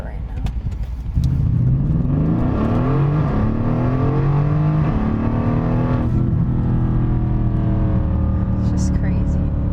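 A four-door Mercedes in Sport mode accelerating hard, its engine rising in pitch through several upshifts, loud and steady from inside the cabin.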